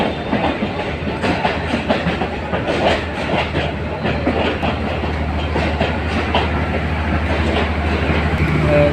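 A train rolls into Brahmanbaria railway station, heard from a footbridge above the platform: a loud, steady rumble with continuous clickety-clack of the wagon wheels across the whole stretch, with no talk over it.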